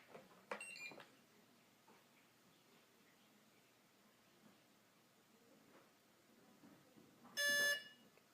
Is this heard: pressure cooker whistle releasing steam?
no